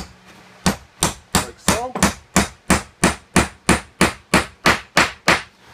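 Steady hammer taps ring out about three per second as a metal bushing is tapped into a drilling head for a benchtop pocket-hole machine, sharp metallic knocks repeating evenly, with a brief spoken remark near the start.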